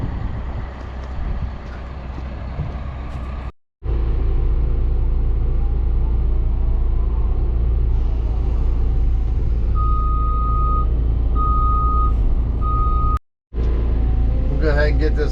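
A CAT 316 excavator dragging up a clay driveway taper, its engine a loud steady low rumble throughout, with brief gaps, short bursts of a nearby beeping alarm repeating three times near the end, and a voice speaking over the machine noise.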